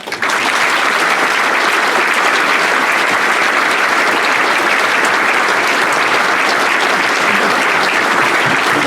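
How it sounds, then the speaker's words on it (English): Parents at a Year 6 school graduation give a big round of applause, a dense, steady wash of many hands clapping that starts abruptly and carries on loud and unbroken throughout. "the parents need to give our students here a big round of applause"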